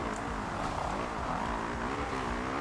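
A motocross bike engine in the video game MXGP2 is revved hard, a steady, loud, buzzing whine that wavers slightly in pitch throughout. No other sounds break through.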